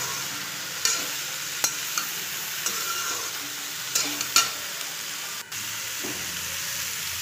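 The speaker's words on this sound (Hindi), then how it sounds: "तो यहाँ पर हम सब्ज़ी को छौंक दिए हैं।" Potato, peas and cauliflower sabzi sizzles steadily in a hot pan after tempering, with a spoon scraping and stirring in short, repeated strokes over the constant frying hiss; no one speaks.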